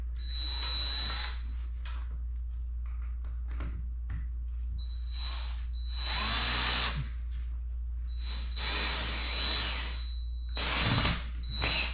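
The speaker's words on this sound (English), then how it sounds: "I'm still going to put the lag bolts in as a safety" Power drill driving lag bolts into a heavy support beam, several loud whirring bursts of a few seconds each with quieter gaps between them, under a steady low hum.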